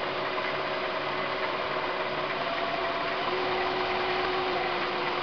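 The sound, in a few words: wood lathe turning sycamore dish with bowl gouge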